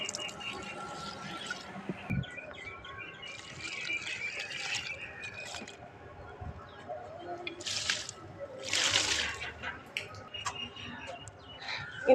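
Fertilizer water trickles and drips over plant branches and leaves, growing into a brief, louder splashing pour near the end, with a voice talking at times.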